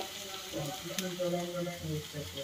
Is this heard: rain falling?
no